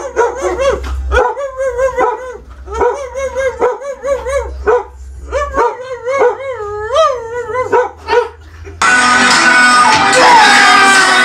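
A puppy howls and barks in a run of loud, close, repeated yips and drawn-out wavering howls with brief pauses between, ending in a burst of harsh, broadband noise.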